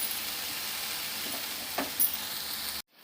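Vegetables for a veg biryani frying in a pan, a continuous close sizzle with a faint stir knock near the end before it cuts off.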